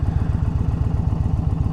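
A motorcycle engine runs loud and close through a catted aftermarket exhaust, with a rapid, steady low pulsing throb and no clear rise in revs.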